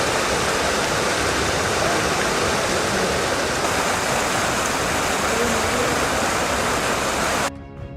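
Broad, steady roar of the Krishna River rushing in flood near Kallola, Chikkodi taluk, Belagavi, loud and continuous throughout before cutting off abruptly at the end.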